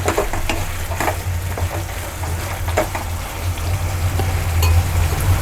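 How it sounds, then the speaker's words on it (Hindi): Masala with softened tomato for tari wali sabzi frying in a pan: a loud, continuous close-up sizzle with occasional stirring scrapes and no talking. "मसाला हमारा पक रहा है।"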